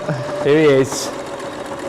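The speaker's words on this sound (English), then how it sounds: "Speed sewing now." A sewing machine stitching at high speed with the pedal pressed down, a brief burst of motor whir alongside a short spoken phrase.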